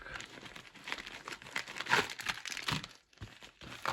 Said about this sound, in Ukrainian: Обережно відкриваємо нашу посилочку і дивимося, що всередині